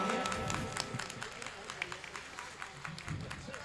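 Audience applause and crowd noise at a Phoolpur mushaira poetry gathering, a dense, steady wash of many hands clapping that carries through the whole stretch, with cheering voices mixed in.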